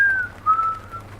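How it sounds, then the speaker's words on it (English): A single faint, thin whistled tone glides slowly downward in two short drawn-out phrases over a quiet low hum. "Just then, the sound of whistling."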